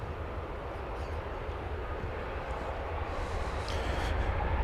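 A Qantas Airbus A380 taxis toward takeoff on runway 18 Left at Dallas Fort Worth airport, a steady low engine rumble with broadband roar that swells slightly louder toward the end.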